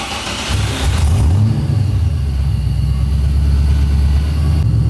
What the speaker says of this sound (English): let's drive it out of here, see what it looks like outside the shop and see how it drives